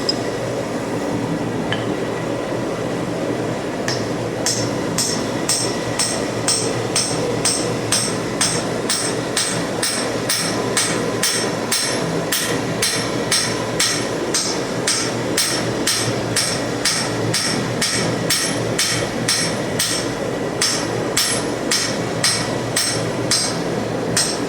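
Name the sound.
hammer forging hot metal for blacksmith tongs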